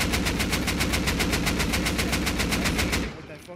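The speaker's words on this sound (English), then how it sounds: "I'm shooting out ladder." Gunfire in the game Rust aimed at a ladder, a fast automatic burst of about twenty even shots that stops abruptly near the end, loud and up close.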